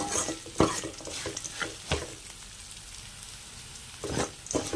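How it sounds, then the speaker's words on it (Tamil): Ginger and chillies sautéing in a pan for ginger chutney, a quiet sizzle broken by several scraping stirs of a spoon against the pan, recorded close up with no talking. "எல்லாத்தையும் நல்லா வதக்கிடலாம்."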